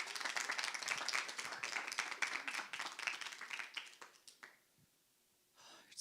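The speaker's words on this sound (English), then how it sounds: "Please give Nishant a round of applause" A room full of people at a startup investor showcase claps, steady applause that fades out after a few seconds, followed by a brief stir of movement.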